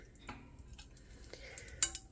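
A frying pan and a pot are handled in a kitchen while cooking keto food, giving sparse light clinks and knocks with one sharper metallic clink near the end, fairly quiet and without talk.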